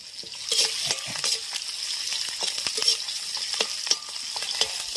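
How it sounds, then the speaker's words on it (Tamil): Peeled garlic cloves sizzle steadily in hot oil in a pan for a fish curry, with scattered crackles and occasional stirring scrapes running through the whole stretch, close and fairly loud, with no voices. "பூண்டு போட்டுக்கிறோம் உரிச்சு வச்சு பூண்டை"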